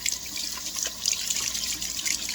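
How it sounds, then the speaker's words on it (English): Hot water runs from a kitchen tap into a sink as greasy stove parts are washed, a steady close hiss of flowing water with splashing and trickling throughout. "Probably put a little more hot water in there."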